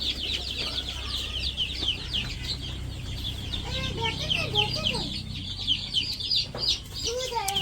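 Chicks peep continuously in high, rapid chirps while hens cluck low underneath, a busy brood close by, with a voice faint in the background.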